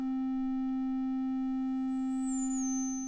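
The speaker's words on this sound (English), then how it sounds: "And you already start to hear that self-resonating quality of this filter." A Dreadbox Eudemonia Eurorack filter pushed into self-resonance rings out as a loud, steady pure tone, with a thin high whistle gliding slowly downward and a faint hum underneath, no voice present.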